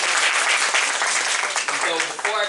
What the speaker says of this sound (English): Let's give Sharif a round of applause